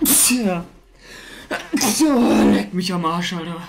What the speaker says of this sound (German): Das war ein wilder Nieser.